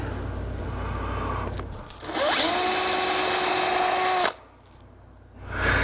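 Power drill boring peg holes into a pine cupboard stile for a woodworking joint: a steady high whine runs loud and close for a couple of seconds, then cuts off, with a brief spin-up at the end and workshop hum beneath.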